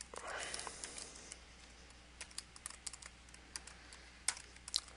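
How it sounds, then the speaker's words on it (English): Quiet, rapid typing on a new laptop keyboard with a poor feel, soft irregular key clicks and taps continuing throughout, close but faint, with a brief murmur early on. "Typing really this new laptop, the keyboard is terrible on it, I find."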